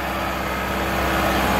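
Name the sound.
Massey 385 tractor engine running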